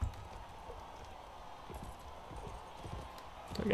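Horse hooves gallop steadily in the Mount and Blade video game, a quiet, continuous clip-clop with a brief swell of louder sound at the very end.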